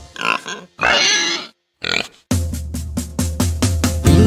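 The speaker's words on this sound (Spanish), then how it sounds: "Dime si tú sabes cómo hace el puerco, vamos a escucharlo tú y yo." Pig oinks and grunts come in short bursts as part of a children's animal song, followed by a steady, thumping musical beat.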